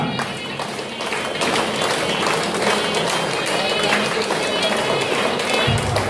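A large audience claps steadily and loudly at Patriji's third Avataranotsavam celebration, a continuous dense patter of hands with a brief low thump near the end.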